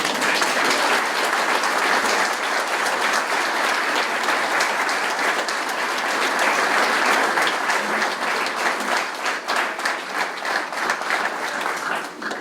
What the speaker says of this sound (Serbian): Ja mislim da je ovaj aplauz najviše rekao.